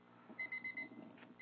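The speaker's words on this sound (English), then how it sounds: "And there goes our timer." A cleaning session timer beeps in a home, a faint string of quick, thin, evenly spaced electronic beeps followed by one more beep, heard over low room noise.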